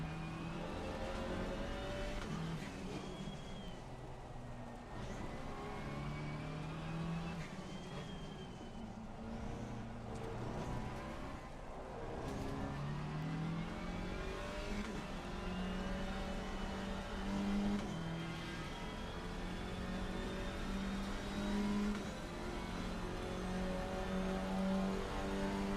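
Racing-car engine note of a GT4 car lapping Barcelona in Assetto Corsa Competizione, a steady loud drone with rising and falling pitch through gear changes, continuous throughout with no talk.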